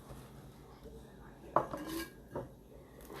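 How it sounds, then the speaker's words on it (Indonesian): Chilies tipped into a glass jar at home make a few sharp clinks and rattles, one louder knock in the middle and another soon after, over a quiet room with no talking. "cabenya masukkan ke dalam toples yang kaca ini"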